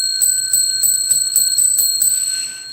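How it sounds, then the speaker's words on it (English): A bell rings in a steady rhythm of about five or six evenly spaced strikes with a sustained bright ringing tone, loud and close, with no talking. "I'm going to get to that after I ring the bell"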